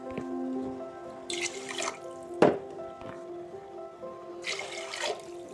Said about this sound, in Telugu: నేను రెండు గ్లాసులు రైస్కి నాలుగు గ్లాసులు వాటర్ పోసుకుంటున్నా